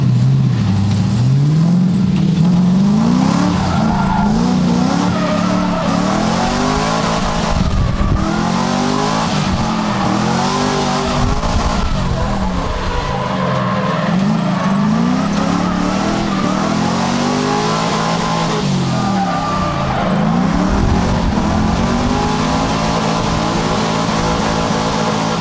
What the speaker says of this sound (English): if you try to just clutch kick it into drift, it just opens up and like one wheel peels it